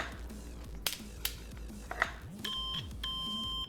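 Short electronic beeps from a multimeter in the Car Mechanic Simulator 2021 garage game sound as a few spaced tones among clicks and light tool noises, fairly faint.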